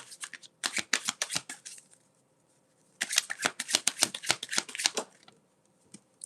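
Tarot cards riffle-shuffled close up in two quick bursts of crisp flapping, with a short pause between them, no voices.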